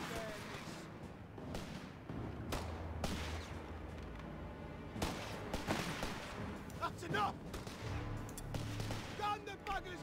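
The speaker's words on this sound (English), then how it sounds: "we're gonna go ahead and see if we can shoot him" Gunfire and artillery-like blasts in the World War II strategy game Company of Heroes 3, with steady battle din and repeated sharp shots, loudest near the middle and end, under a continuous background bed.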